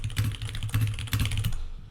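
Rapid clattering keystrokes on a computer keyboard come in quick bursts of close, crisp taps and then stop.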